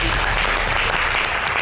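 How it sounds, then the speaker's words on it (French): An audience on a French TV show applauds the guest Chouchou Salvador, a loud, dense burst of steady clapping from many hands with no pauses. "On applaudit pour Chouchou."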